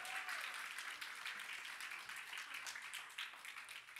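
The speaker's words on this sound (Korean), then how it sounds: "우리 환호성과 함께 아이들 위해서 큰 박수로" A church congregation at a worship service gives a warm, continuous round of applause for the children, many hands clapping steadily and evenly throughout, sounding somewhat distant and soft.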